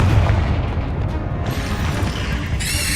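A Confringo blasting spell explosion in the Hogwarts Legacy video game, a loud, close boom with a rumbling tail that fills the short stretch, followed by a bright sizzling shimmer at the end, with no talking.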